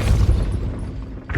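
The Depulso spell goes off in Hogwarts Legacy as a deep booming blast, a dense rumbling burst that fills the short moment and fades with a brief rise at the end.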